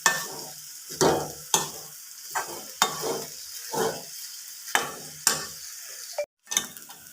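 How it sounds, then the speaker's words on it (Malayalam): Potato masala curry being stirred in a pan, with repeated scraping strokes of a spoon against the metal at an irregular rhythm over a soft sizzle, close and fairly clear, with no voices. "നമുക്ക് ഇത് നന്നായി ഒന്ന് ഇളക്കി കൊടുക്കാം"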